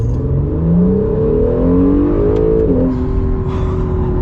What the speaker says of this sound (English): We're gonna get our last acceleration before summing things up, and this thing likes to go into second gear.